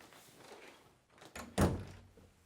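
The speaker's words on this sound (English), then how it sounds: "if you hear a bang, it's the door closing" A side door in the old Havelock Towers orphanage building in Sunderland swings shut with a single loud bang after a few softer knocks and shuffles, heard alone in a quiet room.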